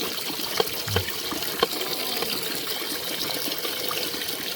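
Water running steadily from a tap during washing, a continuous close trickle and splash with a few small knocks of items being rinsed, no talking.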